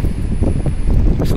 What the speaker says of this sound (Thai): ลมจะแรงมากครับแล้วก็ตีเข้ากล้องตลอดนะครับ